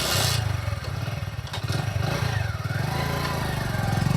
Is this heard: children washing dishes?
no